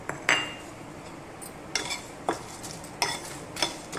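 Spices dry-roasting in a pan over a medium-low flame for pani wale kulche, stirred with a spoon that gives a few faint, irregular scrapes and clinks against the pan over a quiet background.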